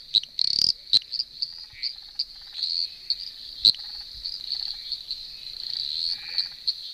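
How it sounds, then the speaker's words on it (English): A tiny eastern dwarf tree frog calls loudly and close over a constant high insect-like drone. Sharp repeated chirps and clicks come in an irregular series, with no voices. "So that is a very tiny little frog, the eastern dwarf tree frog, and it's really loud for how big it is."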